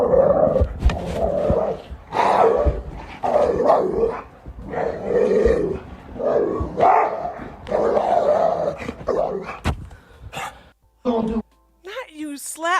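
A dog barks and growls repeatedly in bursts during a slap fight with a person, loud and close, mixed with voices and short gaps.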